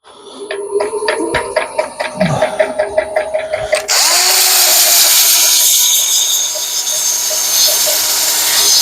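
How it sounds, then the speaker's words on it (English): A carved wooden bowl being power sanded with 100 grit sandpaper: first a series of rhythmic buzzing bursts, then a loud continuous high whirring grind, close and with no talk. "Let's do a little quick sanding on it and see what we got."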